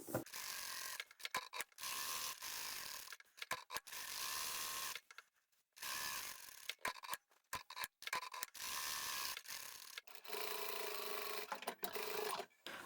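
A sewing machine stitching around a tote bag pocket runs in bursts of rapid mechanical whirring, stopping and restarting repeatedly with brief pauses and a quieter hum near the end, close and without voices.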